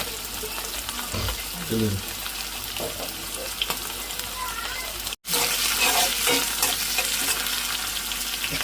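Country chicken curry sizzles and fries in a pot, steady and close, with occasional stirring scrapes, a brief cut partway through, and a voice talking faintly underneath.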